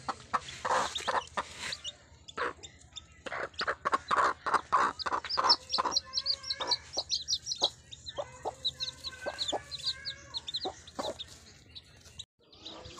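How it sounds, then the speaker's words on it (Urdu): An aseel hen clucks with her newly hatched chicks, whose rapid high peeping chirps run in bursts over the hen's repeated low clucks, close and clear in a quiet yard. "یہ دیکھیں ماشاءاللہ تیسری مرغی کے چوزے"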